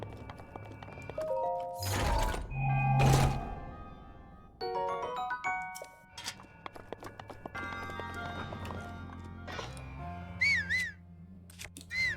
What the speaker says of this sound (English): Why in the world would they give you a button that just whistles?